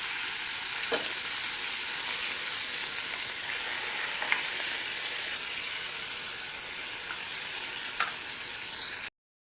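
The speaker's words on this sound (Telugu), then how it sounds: "ఇప్పుడు ఇదే బాండిల్లో టమాటో కూడా వేసుకొని ఫ్రై చేసేసాను" Tomatoes fry in a pan on the stove for a tamarind chutney, a loud steady sizzle and hiss with a few soft stirring scrapes, close and continuous, then it cuts off abruptly at the end.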